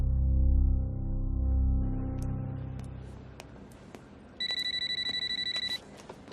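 A telephone rings with a repeated electronic trill, a bright sustained burst near the end that stands alone above low background noise, following fading music.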